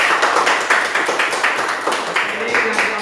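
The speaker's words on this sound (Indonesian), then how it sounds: "Tepuk tangan dulu kelompok 3." Students in a classroom clap for a group called to the front, a quick run of close, uneven hand claps with voices mixed in over the clapping.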